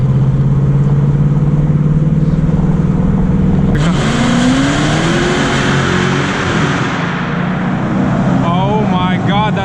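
A 2019 Ford Mustang GT, still in its break-in period, drives on a rock-strewn road, its V8 engine droning steadily before a sharp, loud rev climbs as the car accelerates, with shifting tone through the gears.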